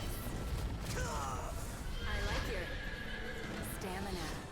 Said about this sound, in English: I do really like the giant shadowy horse guy that pops up